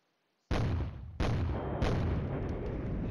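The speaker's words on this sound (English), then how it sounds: "And the mortars are doing what 106mm mortars were designed to do" In the Flashpoint Campaigns: Red Storm video game, 106mm mortars fire in three sharp booming blasts in quick succession, each with a long rumbling decay that overlaps the next, loud and alone.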